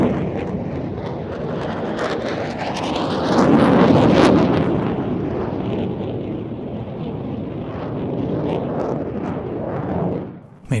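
An F-16 and a JF-17 Thunder fighter jet at a Pakistan Air Force airshow, making a loud, sustained roar that swells as a jet passes and then fades, with wind buffeting the microphone.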